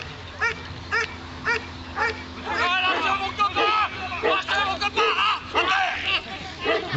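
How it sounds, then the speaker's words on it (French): A gendarmerie police dog barks in a quick run of sharp, close yips and barks, some whining, over a low steady hum with people talking in the background. "Donc le chien qui sécurisait la zone."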